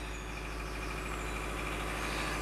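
A vehicle engine idles steadily as it warms up early in the morning, a constant low drone with a faint hum and no break.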